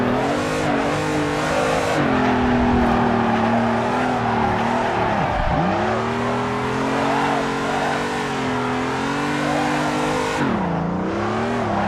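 Engine of a BMW M3 or Toyota AE86 drifting in the Assetto Corsa racing game, a loud, steady high rev held throughout with pitch swings and a brief dip as the car slides, tyres squealing beneath.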